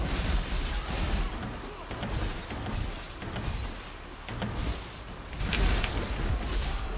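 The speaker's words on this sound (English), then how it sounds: "Listen to that rain," Rain pours steadily in the Path of Exile video game, a soft broadband hiss that swells and fades in gentle waves with no voices over it.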